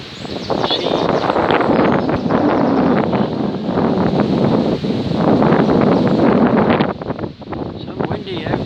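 Gusty wind buffets the microphone loudly and steadily outdoors in a churchyard, a constant rumbling whoosh with a brief lull near the end.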